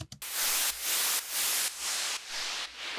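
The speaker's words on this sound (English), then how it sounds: "And I was experimenting with the phaser." In indie dance production, a noise-based synth sound treated with a phaser plays in regular gated bursts of bright hiss, the tone sweeping subtly within each hit, after a brief click at the start.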